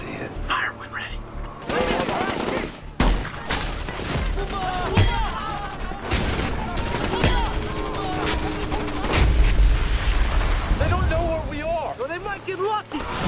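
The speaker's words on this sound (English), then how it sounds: "Transition to machine gun." Machine gun fire in a military shooter scene, loud bursts of gunfire and heavy thumping shots running throughout, with radio-style voices talking over the combat.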